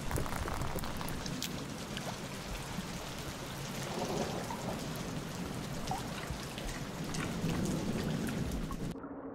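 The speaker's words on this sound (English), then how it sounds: "it's almost rain time." Heavy rain in the video game Rain World pours down in a dense, steady hiss of drops with low thunder rumbling underneath, continuing loudly until it cuts off abruptly at the very end.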